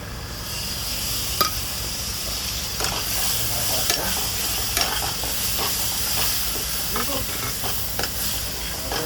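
A tomato ketchup and sauce mixture is stirred in a hot pan, giving a continuous sizzling hiss broken by scattered scraping clicks from the spoon, with no talking.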